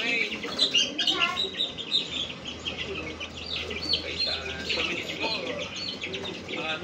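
Chickens and young chicks chirp and peep steadily inside a coop holding a green-legged hen and cockerels, with bright overlapping tweets and occasional clucks under a person talking.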